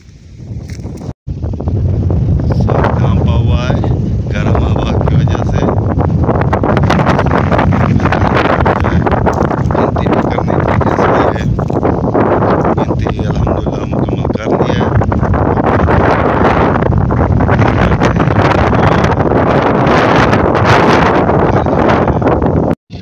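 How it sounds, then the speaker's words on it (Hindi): Strong hot wind blows hard across an open village in the evening, roaring and buffeting the microphone almost without pause, with faint voices under the gusts. "इतना तेज़ हवा है"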